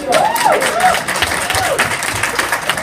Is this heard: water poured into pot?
no